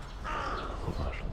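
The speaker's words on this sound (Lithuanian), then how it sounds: "Triukšmauja varnelė." A crow caws in a city residential neighbourhood, a single drawn-out harsh call close by and fairly loud over low traffic hum.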